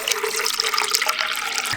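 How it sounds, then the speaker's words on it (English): Water poured into a container while making homemade Sprite, a steady, close splashing stream that runs unbroken for about two seconds with no talking. "I'm gonna pour our water in."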